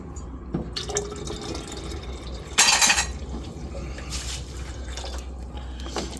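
Liquid is poured into a glass beaker during gold recovery from pinned CPUs, with soft trickling and splashing, a short louder gush near the middle, and faint clinks of glassware in a quiet room.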